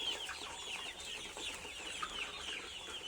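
Brown cock chickens about 52 days old clucking on a farm, many overlapping soft calls forming a steady flock murmur, moderately distant and continuous.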